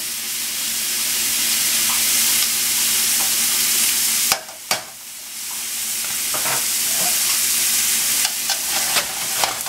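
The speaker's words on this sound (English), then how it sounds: "I'm going to put some butter in here" Butter sizzling loudly in a hot pan while beef tenderloin sears, a steady dense frying hiss with a brief clatter partway through as the pan is handled.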